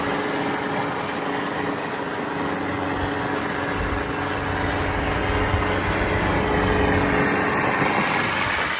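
A Swaraj tractor engine runs steadily nearby with a continuous droning hum and a constant mechanical whine, and there is no speech over it.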